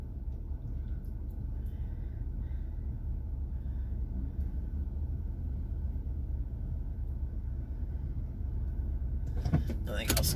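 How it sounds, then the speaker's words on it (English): A car is driven along a road, giving a steady low engine and road rumble from inside the cabin, moderately loud and unbroken, ending with a short rattle. "Dude, driving the car."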